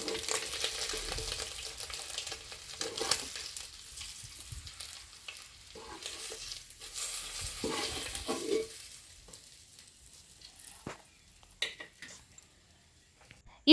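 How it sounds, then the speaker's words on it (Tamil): Fish pieces for fish biryani frying in oil, a steady broadband sizzle with occasional stirring and clatter, loud at first and easing off toward the end, no one talking. "இந்த மீன் துண்டுலாம் நல்லா 2 பக்கமும் பொரிஞ்சதும் எடுத்து தனியாக ஒரு பிளேட்டில் வச்சிடலாம்."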